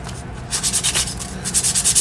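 Sandpaper rubs across a surface to distress it, loud rhythmic back-and-forth scrubbing strokes close by, pausing briefly before quickening into an even cadence.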